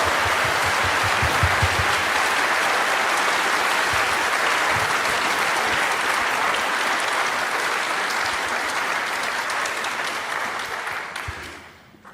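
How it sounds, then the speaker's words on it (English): Sustained audience applause at a panel discussion event, a dense steady clatter of many hands that holds for about ten seconds and then fades out at the end, with no talk over it. "let's give a round of applause for"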